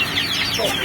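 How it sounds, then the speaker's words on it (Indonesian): Busy clucking from a crowd of about 100 chickens, steady and close, with overlapping calls filling the short moment. "Ini sekitar ada 100 ekor ayam."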